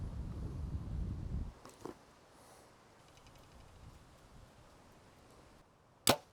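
A bow releases an arrow with a soft thump and whoosh after a stretch of gusty wind buffeting the microphone, followed by a sharp, loud crack near the end, with no talk.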